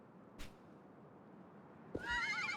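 A horse whinnies in the video game Live A Live, its bright neigh rising and wavering loudly after a short sharp impact, with a brief thump heard earlier in the otherwise quiet scene.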